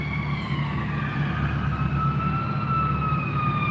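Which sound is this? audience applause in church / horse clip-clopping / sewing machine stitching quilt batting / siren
siren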